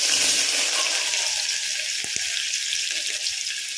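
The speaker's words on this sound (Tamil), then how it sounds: "வெங்காயம் நல்லா வதங்குற வரைக்கும் கொஞ்சம் வெயிட் பண்ணலாம்" Onions sautéing in oil in a pan for suvarotti gravy, a steady hiss of frying with a couple of soft clicks, continuous and fairly close.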